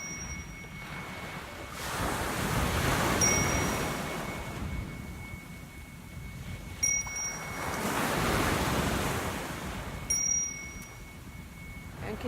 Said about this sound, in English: The sound of your breath in the back of your throat mimics the sound of the ocean.